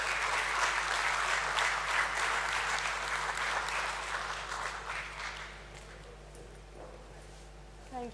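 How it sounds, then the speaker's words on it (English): Audience applause for the vote-of-thanks speaker at the Premier Energies listing ceremony, a dense steady clapping that tapers off toward the end, with faint murmuring underneath. "Let's have a huge round of applause for her, please."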